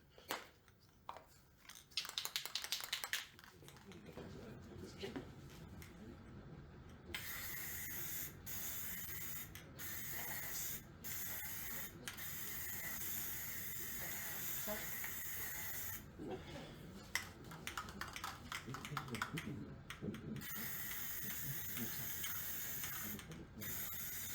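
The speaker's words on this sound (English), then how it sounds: "So I'm going to spray some of this." Spray can applying clear coat onto maple wood, giving long steady hissing bursts broken by short pauses, near and fairly loud, with faint rattling between sprays.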